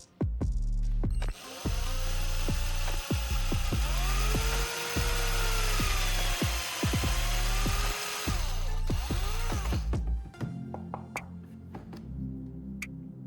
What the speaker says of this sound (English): I drill a small hole right in the center of each candle piece.